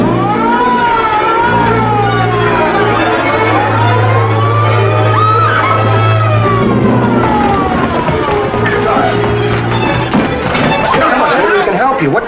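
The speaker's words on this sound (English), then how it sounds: "It's a siren. Probably an ambulance or a police car." A wailing emergency siren rises and falls continuously, loud and fairly close, with people talking over it.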